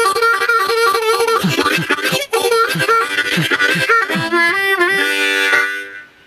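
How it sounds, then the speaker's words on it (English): A harmonica plays a rhythmic chugging accompaniment of pulsing chords and breathy accents. It is loud and continuous for about six seconds and ends on a sustained chord. "Lesson number 2, rhythm harmonica, sounds like this."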